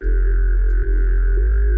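A deep, droning vocoded neuro synth bass tone at the lowest formant setting holds steady with a buzzy, throbbing low end and a nasal vocal-like resonance, loud and alone with no voices.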